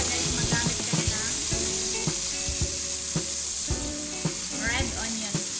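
Onion dropped into a hot frying pan for corned beef with eggplant gives off a steady, close sizzle with stirring clatter and spoon scrapes, and a voice talks faintly underneath.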